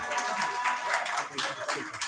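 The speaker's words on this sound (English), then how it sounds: "Give him a round of applause" A small community meeting audience applauding a child, quiet scattered clapping in a room, soft and fairly distant, fading slightly toward the end.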